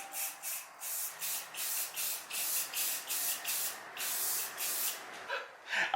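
Rust-Oleum gloss black acrylic enamel sprayed from a can onto the welds of a Harbor Freight cargo carrier, as a series of about a dozen short, close hissing bursts in a steady rhythm.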